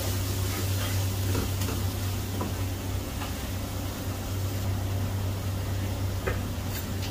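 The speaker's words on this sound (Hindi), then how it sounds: "मसाले को मैंने अच्छी तरह भून लिया है" Spiced masala for Punjabi mutton karahi sizzles steadily in a pan, a continuous close frying hiss with a low hum beneath and occasional faint clinks.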